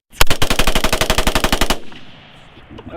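A firearm empties a full magazine in rapid fire, about seventeen loud, close shots in an even burst over roughly a second and a half, followed by a ringing tail and faint outdoor ambience.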